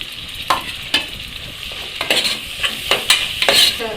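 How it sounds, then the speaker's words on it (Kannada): Onion frying and being stirred in a pan for egg biryani, with repeated scraping stirs and a steady sizzle, close and fairly loud, no talking. "ಈಗ ನಮಗೆ ಈರುಳ್ಳಿ ಹಾಕ್ತೀನಿ ಸಾಕು ಸ್ವಲ್ಪನೇ"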